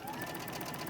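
Quilt strips pass through a sewing machine, producing a brief, quiet, steady mechanical whirring hum.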